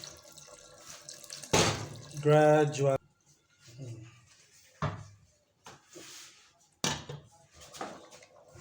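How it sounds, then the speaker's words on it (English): Water splashes into a cooking pot of oha soup with cocoyam in a few short pours, with a voice talking between them. "Now we just pour in the water gradually."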